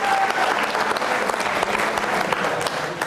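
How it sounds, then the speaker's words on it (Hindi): Loud, sustained applause from a large audience at a devotional program, a dense, even roar of clapping that holds steady throughout, with no speech on top. "तालियां जोरों से बजनी चाहिए"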